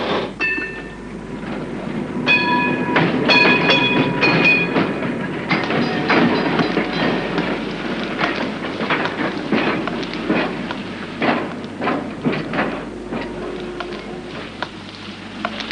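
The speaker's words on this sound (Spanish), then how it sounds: "El hombre rubio tomó el tranvía en el centro" A tram rolls through the streets of central Buenos Aires, a steady rumble with rhythmic wheel clacks and brief metallic squeals, moderately loud and with no voices over it.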